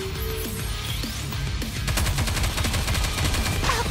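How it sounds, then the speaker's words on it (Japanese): Rapid gunfire crackles in dense bursts during combat in the game Goddess of Victory: NIKKE, loud and continuous, mixed with explosions, electronic effects and game music. "爆発した。"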